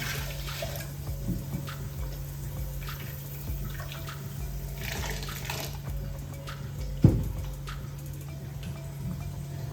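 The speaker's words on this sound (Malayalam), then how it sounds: "കുറച്ചും കൂടെ കറക്റ്റ് ആവശ്യമുള്ള വെള്ളം ഒഴിച്ചു" Water splashes and trickles into a mixer jar in a home kitchen, a soft continuous pour heard alone, with one sharp clink partway through.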